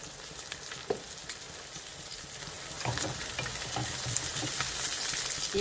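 Browned onions fry with ginger garlic paste in a pan, a close crackling sizzle with sharp stirring clicks that grows louder and denser partway through, with no talking.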